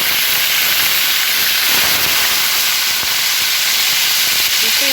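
Loud, steady hiss of pork frying in hot oil, a dense crackling spray that fills the whole clip without pause.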